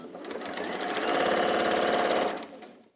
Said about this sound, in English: I love that noise when it starts up.